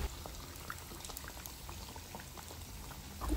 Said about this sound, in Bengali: এখন একটা কড়াইতে তেল নিয়ে নিয়েছি, এক এক করে সবগুলো ভেজে নেব।